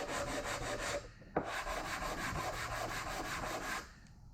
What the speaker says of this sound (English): Actually, I might sand the bottoms of these a little bit,